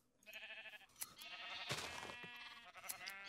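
Sheep bleat repeatedly in a farming video game, several overlapping nasal cries following one another with brief gaps, clear and fairly close.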